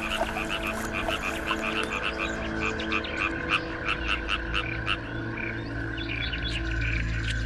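Frogs croak loudly and continuously in the wild, dense rhythmic calls layered over a steady low background, close and unaccompanied by voices.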